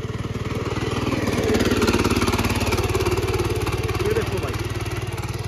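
A double-clutch, engine-driven ridge-making farm machine runs steadily close by, its motor chugging in a fast, even rhythm with a slight swell in the middle, while voices are heard over it.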